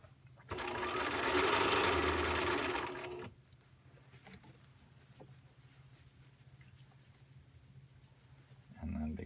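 A home sewing machine stitches a bag seam in production style, running loud and steady for about two and a half seconds, then falling to quiet room noise, with a brief restart at the very end.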